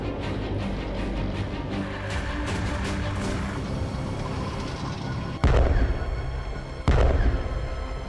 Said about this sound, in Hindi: इसी तरह अटाक्सिया 152 mm सेल्फ प्रोपेल्ड होविजर्स भी रूसी वॉर एक्सरसाइज में शामिल की